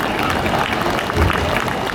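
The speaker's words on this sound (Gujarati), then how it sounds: "પહેલા ત્રણેય બાળકો માટે જોરદાર તાળીઓ" Applause for the first three children at an education motivation session, a dense burst of clapping from a crowd, fairly loud and continuous, mixed with some voices.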